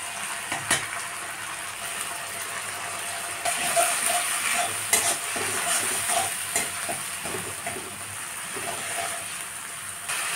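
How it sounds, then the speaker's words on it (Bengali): Ground spices hit hot oil in a pan and are stirred while cooking a koi fish curry, making a continuous sizzle and fry with scraping stir strokes and clinks, close and moderately loud, with no talk. "এবার এর মধ্যে আমি সব মশলাগুলোকে ঢেলে দেবো।"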